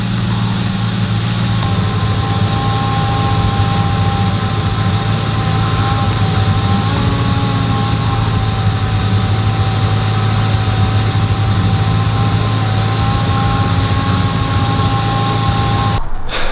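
A 2004 Ford New Edge Mustang engine runs steadily under heavy electrical load, a loud continuous idle hum with a low drone and a faint whine, unbroken for about sixteen seconds until a brief clunk at the very end.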